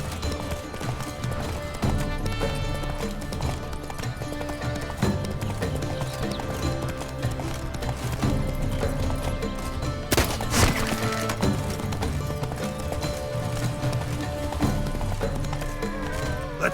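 The horse Roach gallops in The Witcher 3, a steady drumming of hooves running under game music and ambience, with a brief sharp crash partway through.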